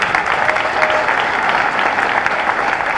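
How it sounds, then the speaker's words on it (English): Audience at a 2018 school promotion ceremony gives a steady round of applause, many hands clapping densely and evenly throughout at close range with no voices above it. "Big round of applause for that."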